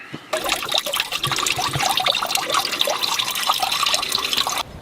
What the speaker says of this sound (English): So let's try and flush the system now and see how it goes.